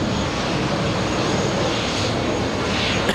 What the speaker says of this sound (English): Delta Airlines taking off. We got a 767-600.